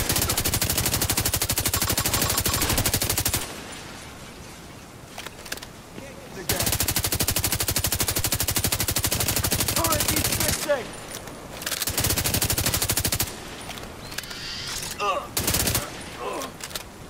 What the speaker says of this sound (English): set up a turret.